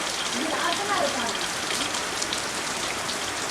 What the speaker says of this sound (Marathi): लवकर लवकर पाऊस आला